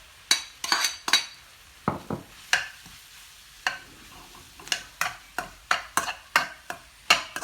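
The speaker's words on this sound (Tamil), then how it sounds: "நல்லதாக எல்லா இடமும் ஒரு மாதிரி மிக்ஸ் பண்ணுவேன்" A metal spoon stirs mashed potatoes into masala in a pan, making sharp, close clinks and scrapes against the pan in an uneven rhythm over a faint sizzle.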